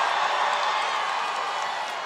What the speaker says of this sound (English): This is a very rambunctious crowd.